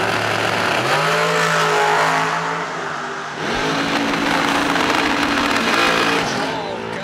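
At a drag strip during a fall bracket race, engines roar loud and continuous as dragsters accelerate down the track, with a brief dip midway before the roar surges again.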